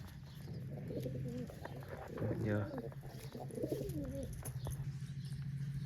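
Pigeons coo in soft rolling throaty phrases, several calls close by, with a low steady hum beneath and some faint background activity.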